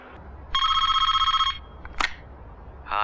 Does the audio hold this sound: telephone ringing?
yes